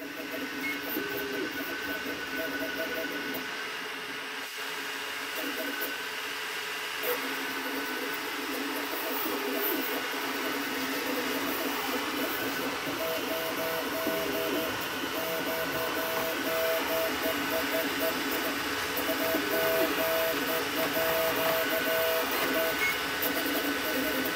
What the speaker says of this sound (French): cette cubique fait du bruit